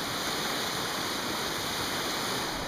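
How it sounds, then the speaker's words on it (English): A fast, high river rushes past nearby in a constant, loud roar of broadband noise, with no breaks and no voices. "That's a substantial amount of water."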